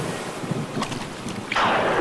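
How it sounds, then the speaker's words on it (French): A stormy sea at night, with a steady roar of wind and surf and a swelling wave crash toward the end, loud and close, with no voices. "La mer devint noire, le tonnerre frappa, et les énormes vagues firent que le navire heurta les rochers et se brisa."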